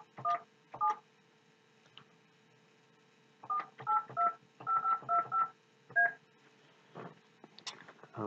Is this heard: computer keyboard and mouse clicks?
no